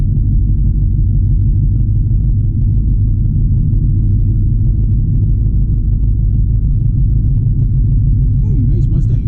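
A Ford Mustang rolls past with a steady, loud low rumble that fills the whole stretch, close and continuous, with no break or fade.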